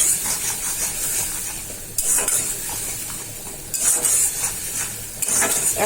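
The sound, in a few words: spices frying and being stirred in a pan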